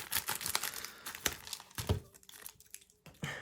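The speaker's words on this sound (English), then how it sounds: "So this should be a booster pack. I'm just going to cut this open from here." A foil Yu-Gi-Oh booster pack wrapper is cut open up close, giving quiet crinkling and snipping crackles in short irregular bursts.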